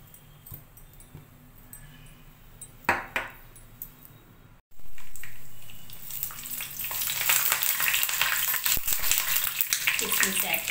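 Two spoons of ghee heating in a pan for watermelon kesari crackle and sizzle, quiet and sparse at first, then after a brief gap swelling into a steady, brighter frying hiss that fills the rest of the clip.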